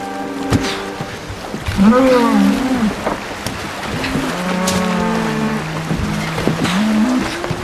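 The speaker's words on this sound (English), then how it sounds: "Can't you hear those cattle bellowing?" Several deep, drawn-out bellows from cattle rise and fall over a low background rumble, some overlapping, with occasional human voices mixed in.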